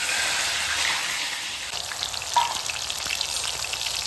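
Green chillies and onions sizzle and crackle steadily in hot oil in a kadai, a close, continuous frying hiss with a brief louder pop midway.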